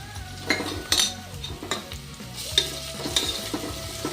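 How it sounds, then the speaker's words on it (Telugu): Ginger garlic paste going into onions frying in a pan, a spoon scraping and clinking against the metal in irregular strokes over a soft steady sizzle, close by with no talk. "ఇప్పుడు అల్లం వెల్లిపాయ పేస్ట్ వేస్తున్నాను."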